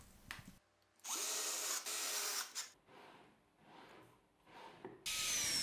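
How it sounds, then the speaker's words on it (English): A power drill drives screws to fix drawer slides onto the plywood base of a blade-sharpening jig, heard as several close whirring bursts broken by short quiet pauses. "Now I find the exact position to screw in the slides to the base of the sharpening jig."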